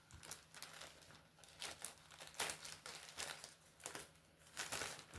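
A plastic packaging pouch for cross-stitch or diamond painting supplies is crinkled and handled, giving repeated close, soft rustling bursts that rise and fall irregularly with no voice.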